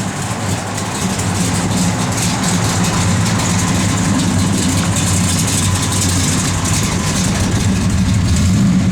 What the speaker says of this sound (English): Got a good sounding big block underneath the hood.